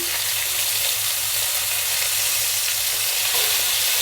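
Fish frying in a pan with curry leaves gives a steady, close, loud sizzle and crackle that runs unbroken for the whole stretch, with no talking.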